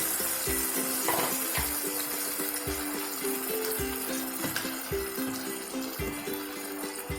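Spices sautéing in oil for an egg curry masala give a dense, constant sizzle, with regular stirring taps and scrapes against the pan and a faint steady hum underneath.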